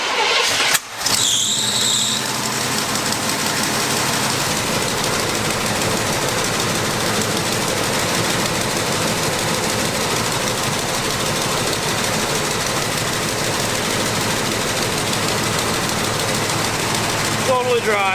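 A long-forgotten GMC Blazer cranks briefly, catches and fires up, with a short squeal right after it starts. The engine then settles into a loud, steady idle that runs on close by.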